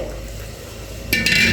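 A thick homemade milk paste being stirred in a pot, a soft continuous scraping and swirling with a brief louder clatter of the utensil against the pot near the end.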